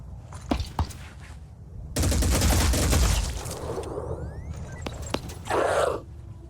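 Big cannon fires in the video game Phoenix Point: a few sharp cracks, then a heavy sustained blast roaring for about two seconds, followed by scattered clicks and another short burst.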